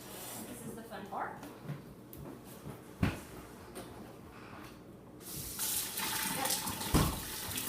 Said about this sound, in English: we're going to fill this the rest of the way with water